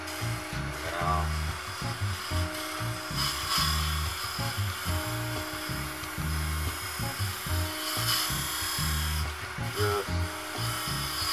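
A hollowing tool cuts into a spinning segmented wood bowl on a lathe, a steady rumbling scrape with rhythmic pulses from the rotation and brief rising whines, continuous and close, with a few words spoken over it.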